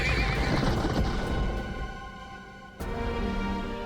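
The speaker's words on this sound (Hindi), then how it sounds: "महाराज घोड़े तैयार हैं।" A horse whinnies loudly and close, with hooves clip-clopping beneath the call, during a staged historical play scene; a sharp burst of sound cuts in near the end.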